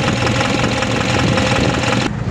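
A Nissan Urvan diesel engine converted to a mechanical injection pump runs loud and close with a steady knocking clatter, cutting off near the end.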